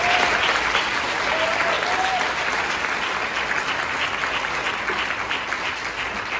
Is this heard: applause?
yes